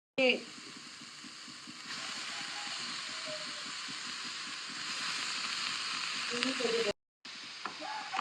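Mushrooms and capsicum sauté in a pan for a spicy mushroom pepper fry, making a steady close hiss and sizzle with faint stirring ticks that cuts out for a moment near the end, then resumes.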